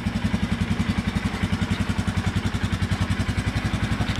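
Polaris Big Boss 6x6 ATV engine running close by, a loud steady chugging idle with fast even pulses throughout, no voices.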